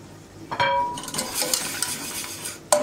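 A whisk works toasted flour and cold water in a pot, metal tines scraping and clinking against the pot in quick irregular strokes, with a sharper clank near the end.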